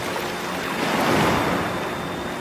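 Ocean surf washes in a steady broadband rush that swells to a peak around the middle and then eases, close and fairly loud, with a little wind noise and no voices.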